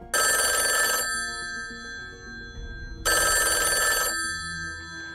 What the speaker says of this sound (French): jusqu'au jour où le téléphone va enfin sonner